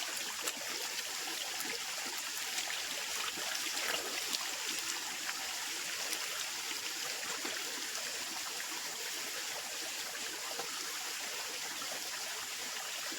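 Water runs steadily from a tap or stream as hands and feet are washed clean of mud, a continuous soft splashing and gurgling rush with no talk over it.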